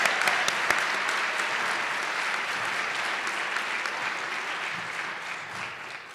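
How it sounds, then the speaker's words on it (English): Sustained applause for award winners at a college all-staff meeting and awards ceremony, a steady dense wash of many hands clapping from a seated audience, moderately loud and tapering slightly toward the end. "Another round of applause for our award winners, please."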